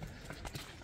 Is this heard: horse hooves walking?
yes